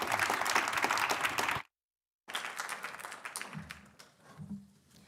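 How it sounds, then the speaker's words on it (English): An audience at a Reuters NEXT conference session gives a speaker a round of applause, dense clapping that breaks off briefly and then resumes and thins out, with a voice speaking faintly underneath toward the end. "let's give Mr. Cook a round of applause."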